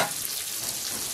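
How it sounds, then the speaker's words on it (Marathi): White mullet (boi fish) fries in a pan, a brief, dense and close hiss of sizzling oil. "आपण हे बघू शकता एकीकडून फ्राय होत आली आहे, दुसरीकडून पलटायची आहे"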